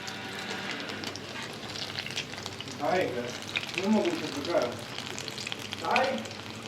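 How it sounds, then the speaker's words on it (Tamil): Cauliflower pieces deep-frying in oil make a constant crackling sizzle with bubbling surges, while a voice talks intermittently over the frying. "நம்ம வந்து எண்ணெயில் போட்டு பொரித்து எடுத்துடலாம்"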